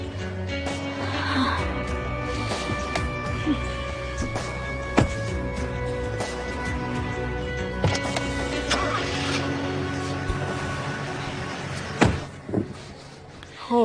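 A car starting and idling as people climb in, a steady engine drone with a faint whine, punctuated by a few clunks of doors and movement, fairly close and continuous.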